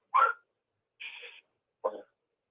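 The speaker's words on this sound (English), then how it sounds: "Sorry, that's my dog." A pet dog barks three short, separate times at medium loudness, with pauses between the barks and no other sound.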